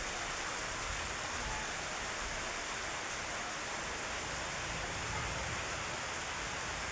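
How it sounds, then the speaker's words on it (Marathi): Early monsoon rain comes down steadily in rural Maharashtra, a continuous, even hiss of falling water that holds at the same moderate level throughout, with no voices or other sounds breaking through. "तर असा थोड्या वेळ पाऊस आलेला आहे."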